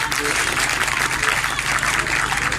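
A church congregation claps loudly together for a pastor, a dense steady burst of applause with crowd noise filling the room throughout.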